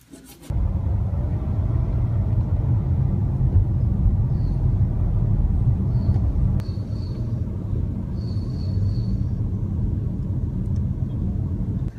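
Road traffic on the way to a party, heard from inside a moving car as a steady low rumble of engine and tyres, constant and close, with faint higher tones and no talking.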